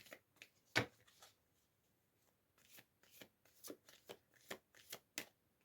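A deck of tarot cards being shuffled nearby: a sharp riffle near the start, then a pause, then a rapid run of soft flicking card bursts, quiet and with no talking.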